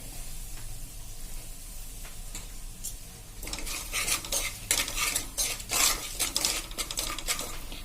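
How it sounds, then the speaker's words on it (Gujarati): A spice and potato-paneer stuffing mixture for Punjabi stuffed chilies sautés on a slow flame, with a low sizzle and then busy spoon scraping and clattering against the pan, close and steady, without talking. "અને આને આપણે એકદમ સ્લો ફ્લેમ ઉપર આ રીતે સાંતળી લેશું"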